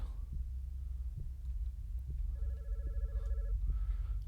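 A telephone rings once in the horror game God's Basement, a short electronic trill that stands out faintly over a low, quiet rumble of ambience.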